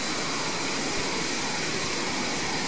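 Steady aircraft engine roar from the X-Plane 11 flight simulator, a continuous broad jet-like hum at even level with no breaks.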